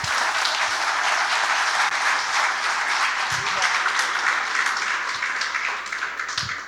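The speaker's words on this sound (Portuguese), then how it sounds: "pedir para vocês darem uma salva de palmas" An audience at a state pension congress gives a sustained round of applause, a loud, dense wash of clapping with a few low thumps mixed in, easing off near the end.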